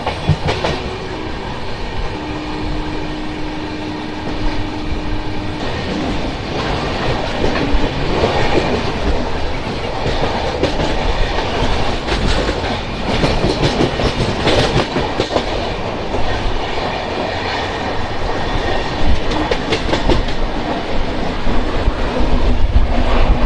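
Guntur Intercity SF Express train 12706 running on the outskirts of Vijayawada, heard from on board as a loud continuous rumble with rhythmic wheel clatter and a brief whine early on, and no talk.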